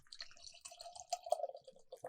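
Blueberry Maple Stout beer pours into a glass from a crowler, a soft, close liquid trickle and fizz with faint dripping, no voices.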